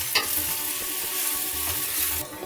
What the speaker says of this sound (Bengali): হলুদ আর লঙ্কার গুঁড়োটা দিয়ে মোটামুটি 20 সেকেন্ডের মতো ভেজে নিয়েছি।